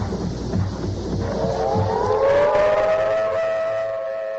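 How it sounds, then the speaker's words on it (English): Air raid sirens rise slowly out of a murky background rumble, swelling into a sustained, wavering wail at moderate distance that lingers and slowly fades, with no voices. "Now what you're hearing are the air raid sirens."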